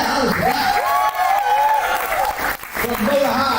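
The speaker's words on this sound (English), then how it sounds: "Clap it up for that." An audience at a poetry slam claps steadily for a poet, a dense wash of hands with a voice talking over it throughout.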